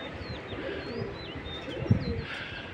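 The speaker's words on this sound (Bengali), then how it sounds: "এই যে একটা নতুন কবুতর আসছে" Giribaz pigeons at a loft in the morning give soft low coos, mixed with thin high chirps and whistles from other birds, moderately close and steady, with no speech.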